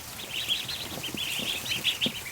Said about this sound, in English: I love little ducks.